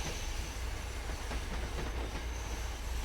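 An MBTA commuter train with double-deck cars in the Train Sim World 5 game, heard as a steady, loud rumble of rolling wheels with faint rhythmic clatter on the rails and no talk.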